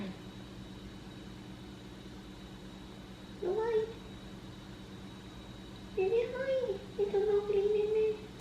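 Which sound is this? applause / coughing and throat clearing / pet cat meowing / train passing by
pet cat meowing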